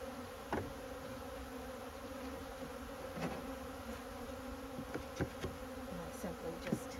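Honey bees hum steadily inside a horizontal hive, a dense, continuous buzz close by. Occasional clicks and knocks come from boards being handled.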